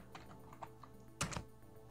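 Quiet computer keyboard typing during a Doom 2 session: scattered light key taps, then a louder cluster of two or three quick clacks near the middle, close and faint overall.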